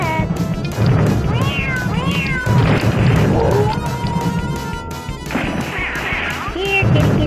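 Electronic cat meows, some rising and some falling, repeat from a pinball machine amid crashing, clattering game effects and an ongoing loud mechanical din.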